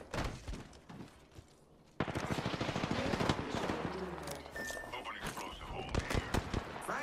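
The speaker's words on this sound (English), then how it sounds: "Enemies are shooting at me." Enemy automatic gunfire in the shooter Apex Legends: after a quieter opening, dense rapid bursts rattle continuously for several seconds, with voices mixed in.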